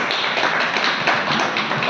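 Audience clapping at a business motivational event, a steady dense patter of many hands at moderate volume that holds evenly throughout with no voices.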